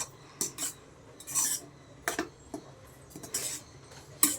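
A spoon scrapes and clinks against a metal pot while cooked beetroot rice is stirred, making scattered, irregular bursts of close metallic scraping separated by short quiet gaps, with no voices.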